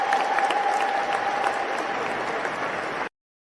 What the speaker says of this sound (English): Let's give him a round of applause for expressing himself.